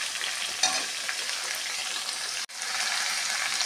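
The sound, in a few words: potato, eggplant and pumpkin frying in a pan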